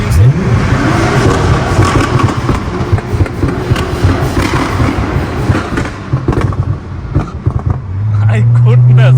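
A 2012 Nissan GT-R R35 runs with a loud, steady engine roar from inside the car, building to a stronger rev at the end while people talk over it.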